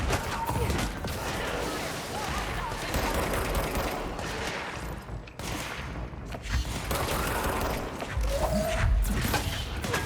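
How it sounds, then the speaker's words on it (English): Rockets and gunfire in the video game Control pound continuously in a dense, loud barrage of explosive bursts and thuds, with no pauses across the whole stretch. "Stop shooting rockets at me."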